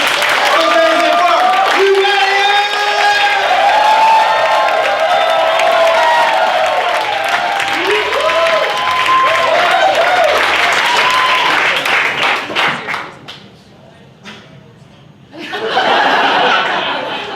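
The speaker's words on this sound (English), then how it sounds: "clap and make some noise." Comedy club audience at a stand-up set claps and cheers loudly, with whoops and laughter over dense applause. The noise drops out briefly to near quiet before another short burst of clapping.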